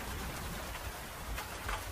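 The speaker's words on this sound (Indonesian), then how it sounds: "tetesan air hujan yang turun berirama" Steady rain falls on an umbrella, a dense even patter of drops with a few louder splashes, continuous and fairly close, with no voices.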